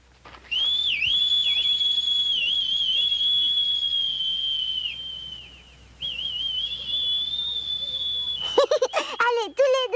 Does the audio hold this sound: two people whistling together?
yes